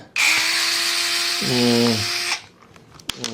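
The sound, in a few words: Fanttik NEX S1 Pro electric screwdriver spinning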